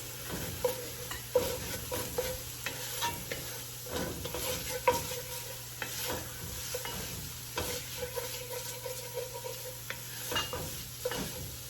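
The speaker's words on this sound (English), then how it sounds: "Let's give that a stir and kind of toast up the spices." Spices and fresh thyme toast in a pot for turkey and cannellini bean chili, a soft sizzle under repeated scraping stirs of a spoon against the pot, fairly quiet and close.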